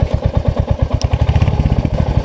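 A Royal Enfield Hunter 350 motorcycle's engine runs close by, throbbing in a steady, rapid pulse of low thumps with a clattering mechanical edge and a brief high tick midway.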